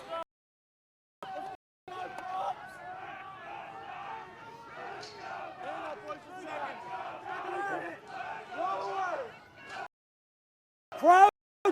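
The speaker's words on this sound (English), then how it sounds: "You hear the Gamecocks fans cheering." Gamecocks fans cheer and chant in unison at a collegiate rugby championship match, a steady crowd roar rising and falling over several seconds, with brief gaps of near silence around it.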